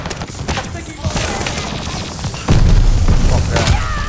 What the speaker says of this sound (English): Throw a grenade in there.